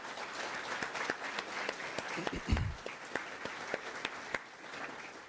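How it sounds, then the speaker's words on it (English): Audience at an alumni honoring celebration applauding for the committee, a steady wash of many hands clapping at moderate distance, fairly quiet overall, with a brief low thump partway through. "please join me in giving Art and the committee a round of applause"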